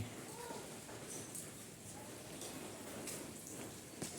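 Light rain, the first of the year, falls steadily on a street, making a faint, even hiss with no talking.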